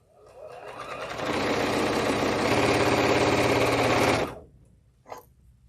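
A sewing machine stitches fabric, its motor ramping up into a fast, steady mechanical whir for about three seconds before stopping, followed by a small click.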